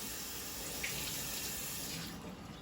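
Tap water runs into a kitchen sink to wash bell peppers, a steady faint rushing splash that continues throughout and eases slightly at the end, with no talk.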